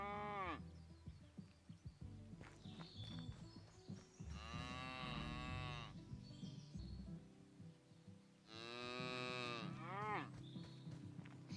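Cows in Pure Farming 2018 moo in several long, loud, drawn-out calls spaced a few seconds apart, with faint bird chirps and farm ambience between them.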